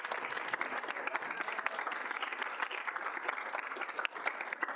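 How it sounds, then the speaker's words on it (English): Applause from a student senate audience honoring a member's selection committee work: dense, steady clapping that fills the room evenly, with no break in its length. "can we please give Michael a huge round of applause"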